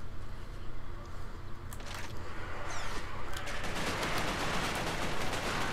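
Gunfire in the video game Resistance: Fall of Man, a rapid stuttering burst that builds and becomes continuous in the second half, heard over a low game soundtrack.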